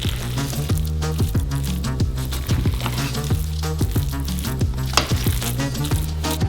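Steamed sushi rice is mixed with its dressing, producing steady sticky squelching and scraping strokes in a regular rhythm, close up with no voices.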